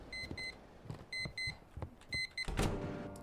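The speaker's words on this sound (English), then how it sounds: "Oh, is that my alarm clock?" A video game alarm clock rings in repeated bursts of electronic beeping, a clear staccato pattern of short tones with brief gaps, ending in a louder clunk.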